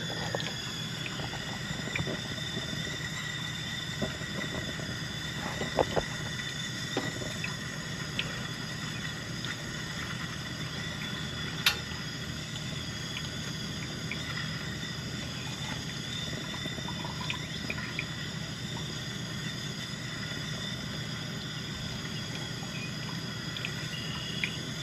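Water runs through a Coleman stovetop coffee maker heated on a small butane camp stove, making a steady, quiet bubbling and dripping wash with occasional faint clicks and no talk.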